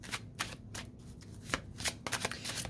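A deck of oracle cards is shuffled by hand, giving a quick series of crisp riffling bursts and flicks that sound close and fairly quiet, with no talk.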